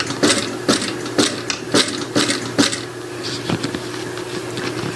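A sewing machine stitches the lining of a fabric pouch in short, rhythmic bursts of whirring and clacking. The bursts are close and loud, separated by brief pauses as the fabric is guided.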